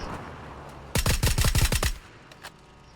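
Rapid burst of about eight VSS rifle shots in PUBG, loud and close, fired in a quick rhythmic string lasting roughly one second, followed by near quiet with a faint click.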